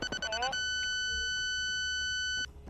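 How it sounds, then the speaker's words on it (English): A bright, steady electronic alarm tone from Arma 3 rings for about two seconds after a short burst of mixed game noise, then cuts off abruptly. "There's the beeping going off"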